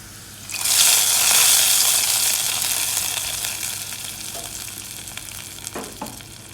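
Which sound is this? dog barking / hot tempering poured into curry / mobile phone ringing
hot tempering poured into curry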